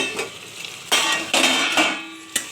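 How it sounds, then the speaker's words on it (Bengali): A metal lid clanks and scrapes against a cooking pot of chicken being braised, with several sharp metallic knocks and rattles spread over a couple of seconds. "এরপরে আমি ঢাকনাটা খুলে দেখি"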